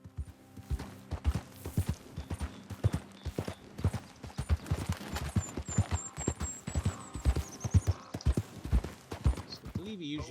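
Horse hooves clip-clopping in Red Dead Redemption 2, a steady walking rhythm of hollow knocks with game ambience and a voice talking over it.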